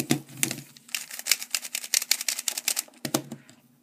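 A mini stickerless MoYu Aolong v1 speedcube is turned in quick bursts of light plastic clicks and clacks, close and fairly soft, with a short pause before a final flurry of turns.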